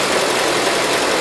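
A 1977 Gravely GMT 900 tractor engine runs on a mix of old gas, a close, loud, steady broadband roar with slight uneven wavering and no voices.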